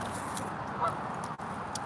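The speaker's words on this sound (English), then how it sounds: "And we got the geese on the water." Geese honk on open water against a steady outdoor wash of background noise, giving a faint, brief call partway through with no speech.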